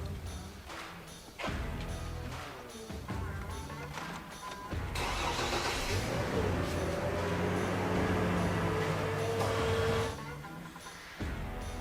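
A car engine cranks and catches with help from the 50-amp engine-start boost of a Vector BC15BV 15 amp smart battery charger, then settles into a loud, steady running roar after a few short thumps.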